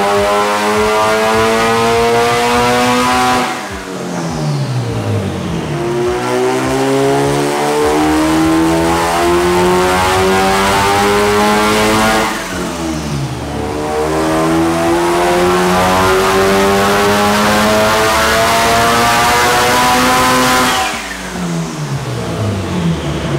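A Mitsubishi Evo 8 engine revs hard on a dyno, loud and close, climbing steadily through three long pulls, each ending in a brief drop before the next rise.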